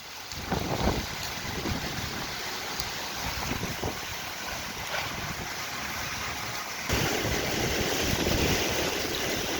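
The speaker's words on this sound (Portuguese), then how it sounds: "A chuva, o vento, olha que coisa horrível." Storm with heavy rain and strong wind tearing at house roof tiles, a dense roaring wash of wind and rain that grows louder partway through, with microphone buffeting and no voices.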